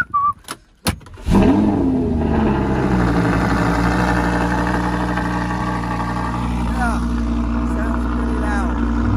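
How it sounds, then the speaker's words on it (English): An Audi R8 with a V10 engine cold-starts after a few clicks and a whirring starter, firing with a loud rising roar that settles into a steady, deep, rumbling high idle, close by and alone. "if I open the car up in the morning, it makes a pretty naughty sounding cold start."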